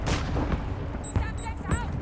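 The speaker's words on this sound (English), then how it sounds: "Throwing a stun grenade!" A stun grenade thrown and exploding in a military video game, heavy booming blasts and sharp cracks over a loud, rumbling battle din, with a voice calling out at the start.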